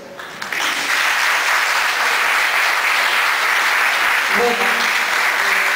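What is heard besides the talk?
audience applause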